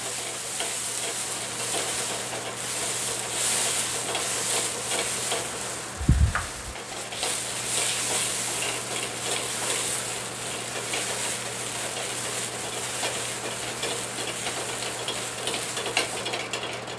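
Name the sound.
brandy being flambéed in a hot pan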